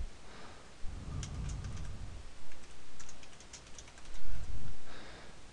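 Someone types a photo description on a computer keyboard, heard as quick bursts of soft clicking keys close by, broken up by short pauses and a few low thuds.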